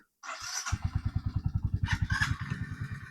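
A motorcycle engine thumps in a steady rapid rhythm, close and loud, with a brief higher whine rising over it at moments.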